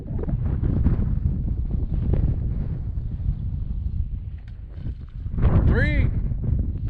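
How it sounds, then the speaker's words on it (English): Strong wind buffeting the microphone outdoors near the Colosseum Mine outside Primm, Nevada, a loud continuous low rumble with gusty swells, briefly mixed with a faint whistling tone near the end. "I was gonna get some drone footage, but it's too windy."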